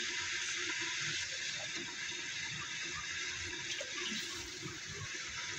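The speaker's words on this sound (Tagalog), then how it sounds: "Yan, lagyan na ng tubig." Tap water runs steadily into a cooking pot in a home kitchen where pancit is being prepared, a continuous splashing rush from start to finish with no talk over it.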